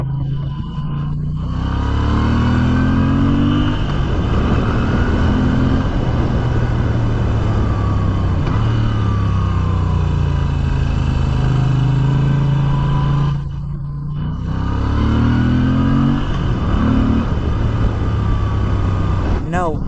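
A 2025 Moto Guzzi V7 Sport motorcycle accelerates hard through its first gears up to the rev limiter. The loud, close engine note climbs steeply in each gear, with short dips at every shift, running continuously.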